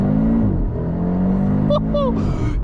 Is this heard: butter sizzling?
no